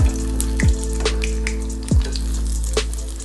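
A potato nest fries steadily in hot oil, giving a continuous close sizzle with a few soft clicks and clatters from the pan along the way.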